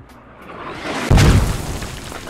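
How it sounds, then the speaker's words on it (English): Mortar shell exploding in a tactical military shooter game, a single loud, deep boom that lands suddenly over a low rumble of battlefield ambience. "Mortar!"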